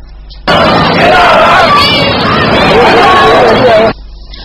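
A loud protest crowd clashes with police firing tear gas shells, a dense roar of shouting voices and bursts that stops abruptly at both ends.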